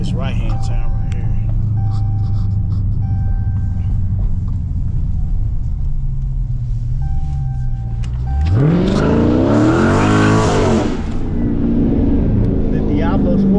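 A tuned 2019 Dodge Challenger ScatPack accelerates through a right-hand turn, its engine rumbling low and then surging into a loud rising roar as the revs climb, while people talk inside the car.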